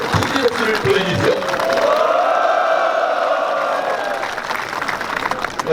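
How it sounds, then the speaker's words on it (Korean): A crowd at a press conference claps and cheers, loud sustained applause with whoops and shouts rising and carrying through, with voices mixed into the noise. "여러분 우리 최승재 위원님께 큰 함성 통지 박수를 보내주십시오"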